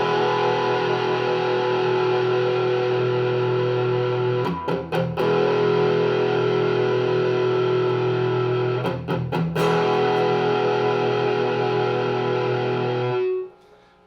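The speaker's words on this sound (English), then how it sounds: "I've got a little bit of distortion going. I got a tube screamer and an archer" A 1988 Fender Stratocaster Eric Clapton signature model with Lace active pickups, played through a Tube Screamer and a second distortion pedal into an Orange Crush amp, rings out loud, sustained distorted chords, with two brief choppy re-strikes before the final fade.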